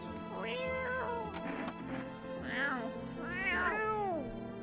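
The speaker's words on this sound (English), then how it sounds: "Reach out and pet the cat." A cat meows several times in a row, each call a clear rising and falling tone, close and fairly loud, as it is petted in the video game No, I'm not a Human; a faint steady background hum runs underneath.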